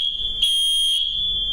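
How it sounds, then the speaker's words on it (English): A household smoke alarm set off while fried chicken is being cooked, giving a continuous shrill, high-pitched electronic tone that swells louder for about half a second in the middle, heard alone with no talking. "we're getting some alarms going on"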